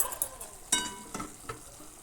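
Spiced winter vegetables being stirred and fried over medium heat for vegetarian khichuri, quiet sizzling broken by a few soft scraping strokes of a spoon in the pan.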